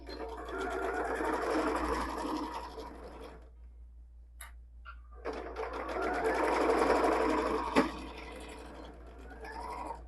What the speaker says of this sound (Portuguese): vamos fazer, então, a costura prendendo as laterais, com retrocesso no início e no final